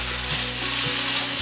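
Water goes into a hot stir-fry pan and sets off a loud, continuous hiss and sizzle, close up, with faint scraping from stirring underneath.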